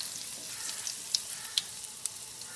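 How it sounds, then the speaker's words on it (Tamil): Turmeric, asafoetida and salt sautéing in oil for rasam give a faint, steady sizzle with a few soft crackles and taps of stirring, no voices. "நல்லா எண்ணெயிலே வதக்கி விட்டுருங்க."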